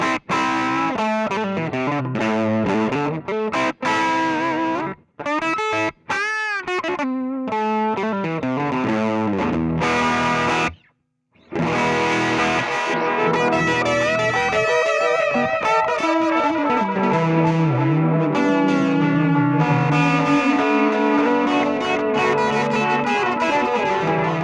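An Ed O'Brien signature Stratocaster with a JB Junior pickup plays through distortion and effects, ringing chords and sustained notes with a couple of brief pauses, loud and close.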